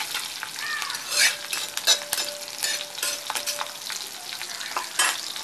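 Cumin seeds, mustard seeds and slit green chilies sauté in hot oil, giving a steady close crackling sizzle with bursts of popping and a few soft stirring scrapes, no voices.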